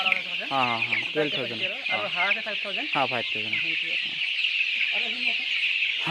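Local hens cluck and chatter close by on a small poultry farm in Assam, a steady stream of short calls, with people talking in between.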